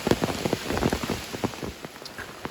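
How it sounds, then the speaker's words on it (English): Steady rain falls outdoors near a river and farmstead, with dense pattering drops striking surfaces close by, constant and moderately loud with no voices. "It's gonna rain till 2 a.m."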